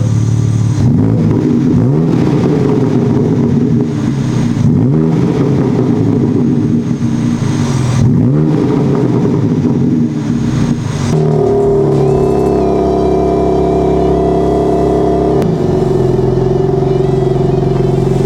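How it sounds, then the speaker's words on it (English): A BMW G80 M3 with a catless downpipe on an otherwise stock setup revs loudly with its exhaust valves open as it warms up. A continuous close engine roar surges and dips, then settles into a steadier, higher drone. "we're just gonna let the car warm up fully and see how it sounds with the valves open"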